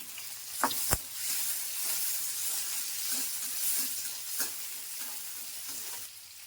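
Chopped tomatoes added to fried onion and sizzling in a pan, a loud steady hiss broken by a few sharp stirring clinks near the start and later, close up with no talking.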